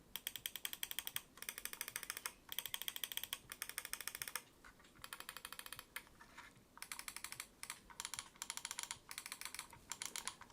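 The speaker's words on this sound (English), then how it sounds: "The buttons are all quite nice and clicky, as we'll take a look at now." Buttons on a cheap optical gaming mouse clicked in quick, sharp bursts of rapid clicks separated by brief pauses, close and crisp against a quiet background.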